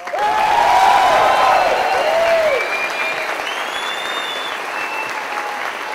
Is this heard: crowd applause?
yes